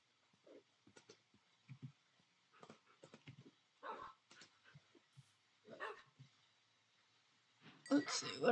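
Tamed wolves in Minecraft let out scattered short barks and yips in quick bursts, fairly quiet and irregular, ending in a louder flurry of sound.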